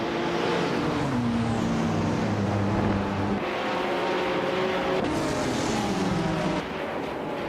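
A 2018 BR Engineering BR1 LMP1 prototype in a racing video game, its engine screaming at high revs with rising and falling pitch through gear changes, loud and continuous with no voices.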